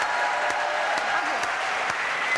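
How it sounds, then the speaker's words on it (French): Television studio audience clapping for a group of young women, a steady full round of applause at constant level with a few sharper claps standing out near the microphone. "Je voudrais quelques applaudissements pour ces jeunes filles"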